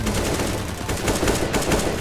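Continuous rapid automatic gunfire in the video game CS:GO, a dense, loud burst of shots with no pause, close and harsh, with no talk.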